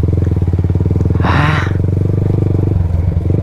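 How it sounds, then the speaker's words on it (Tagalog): Motorcycle engine chugging loudly and steadily at close range on a steep coastal road from San Andres to San Francisco, Quezon, with a brief burst of wind rush midway. "kusang naggagas yung motor eh"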